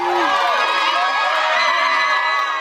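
Crowd of people outside a courtroom cheering, whooping and shouting right after a $1.75 million jury verdict, a loud, dense and sustained roar of voices throughout.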